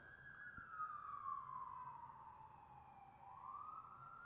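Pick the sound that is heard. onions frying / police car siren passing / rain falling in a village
police car siren passing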